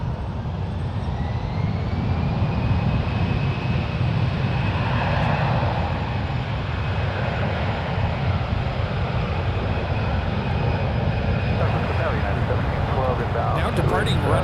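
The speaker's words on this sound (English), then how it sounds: "Now departing runway 1 left is Alaska Airlines Flight 236 departing to Las Vegas. It's a 10-year-old Airbus A320." An Alaska Airlines Airbus A320, ten years old, departs runway 1 left at San Francisco International with a steady, loud jet roar and a thin whine. The roar holds throughout without fading.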